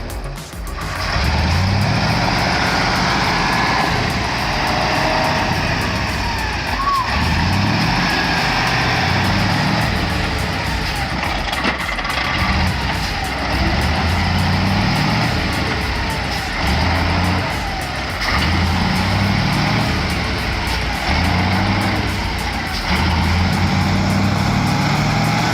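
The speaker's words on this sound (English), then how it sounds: "The lumber truck is stuck in mud, looking like it's going to get swallowed." A lumber truck stuck in mud, its engine roaring and labouring loudly and continuously with repeated surges as it strains to pull free, heard close and without talk.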